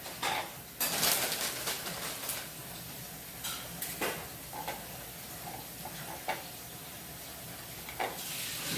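Spoon clinking and scraping against a bowl while stirring banana pudding mixture, faint irregular taps and scrapes with soft background hiss and short pauses between strokes.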